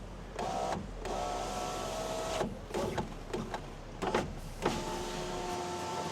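A Chevrolet Cruze electric power window motor whirs in several bursts, starting and stopping with clicks between runs, close and fairly quiet inside the car.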